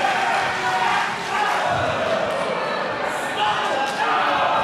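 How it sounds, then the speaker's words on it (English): A wrestling crowd at a tag-team match roars loudly and continuously, a dense wall of cheering and shouting with a commentator's voice over it. "And the crowd goes wild."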